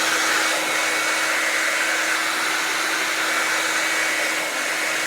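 A hair dryer blows steadily and loudly over acrylic paint washes, a constant close whooshing roar that holds without pause from start to finish.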